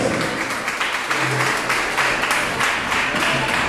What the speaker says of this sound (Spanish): Déjame un aplauso para Cristo, aleluya.